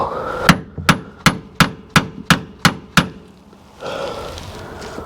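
Sharp metal-on-metal hammer blows ring out on the brake parts of a Case 580C backhoe tractor, eight steady strikes in a row that are close and loud, then a short pause before a low rumble of background noise.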